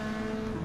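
A Maserati GranTurismo S race car in a racing video game, sliding into a turn on Deep Forest Raceway: a steady, loud engine drone holds a constant pitch throughout a brief burst.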